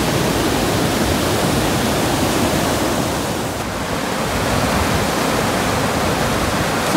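Steady, loud roar of a waterfall at Whiteshell, recorded up close at the top of the falls, an unbroken broadband rush of falling water with no voices.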